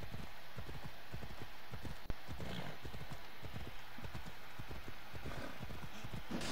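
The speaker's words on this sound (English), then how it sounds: "This horse went fast." A horse gallops in Assassin's Creed Odyssey, a fast, steady clip-clop of hooves running throughout, with a brief whinny and a sharp thump partway through.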